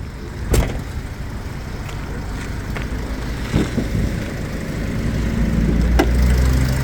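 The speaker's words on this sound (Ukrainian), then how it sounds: "Працює двигун" A 2010 Renault Trafic van's two-litre, 84 kW engine idles with a steady low rumble, punctuated by a few sharp clicks and knocks, close by.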